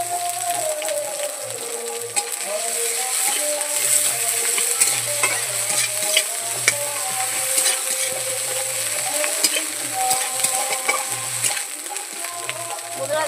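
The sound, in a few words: onion, garlic and ginger paste frying in a pan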